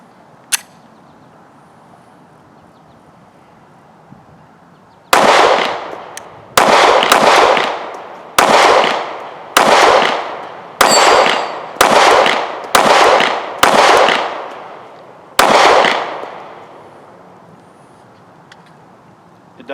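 A Sig P365 pistol firing about nine sharp, loud shots in a steady string, each crack trailing off in a short echo, after a brief quiet start with one small click.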